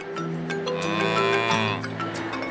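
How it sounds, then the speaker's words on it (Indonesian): Cattle roaming free in open countryside low out in a long, loud, drawn-out moo close by, with other animal sounds in the background. "sekarang kita lihat sapi-sapi yang diumbar di alam yuk"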